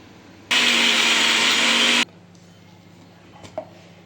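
A kitchen mixer grinds ginger and chilli paste loudly for about a second and a half, then stops abruptly, leaving quiet room noise and a small clink.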